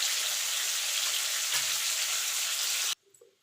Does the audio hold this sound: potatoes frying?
yes